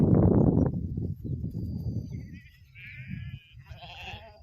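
After shuffling and trampling of hooves, sheep give two short, wavering bleats nearby.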